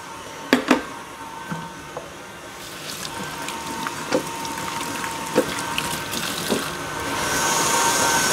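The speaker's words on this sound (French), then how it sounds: "Je vais les égoutter tout simplement et les rafraîchir sous l'eau du robinet." Tap water running in a kitchen to rinse and cool drained cooked oranges for a chocolate-orange dessert, a steady watery wash with scattered clinks and knocks, growing fuller toward the end.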